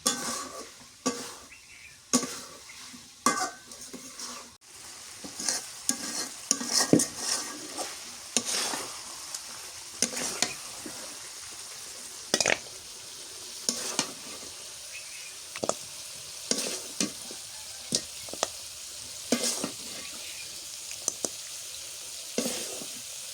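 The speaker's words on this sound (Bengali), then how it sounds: "হাঁসের মাংস রান্না হয়ে গেছে, ভাজা করলাম" Duck meat frying and being stirred in a pan, with a steady sizzle broken by frequent sharp scraping and clanking stirs at an uneven rhythm, close and fairly loud throughout.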